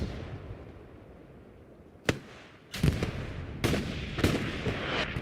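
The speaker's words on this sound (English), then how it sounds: "there's a lot of rockets shootings" Rocket fire in Hell Let Loose, a World War II game, during a night battle at Kharkov: a low ambient rumble, then a sharp crack followed by several loud, booming launches a second or so apart.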